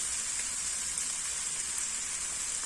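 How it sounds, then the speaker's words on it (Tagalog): Canned meat sautéing with onion and garlic in a hot pan gives a steady, even sizzle that hisses on without a break, close up and moderately loud, with no talking. "Ayan, ginisa ko na po yan sa sibuyas at bawang."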